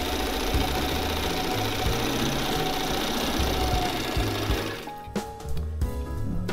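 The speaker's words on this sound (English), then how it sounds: "This is a very easy machine to sew on." A thrift-store White 173 sewing machine runs loud and close in a steady rapid mechanical hum for about five seconds, then slows into a few uneven clunks and stops.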